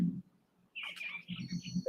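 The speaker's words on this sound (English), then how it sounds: "And the birds keep on coming through." Small birds chirping outdoors in the morning, a few short bright tweets and a thin whistled call over a low background, fairly faint and alone.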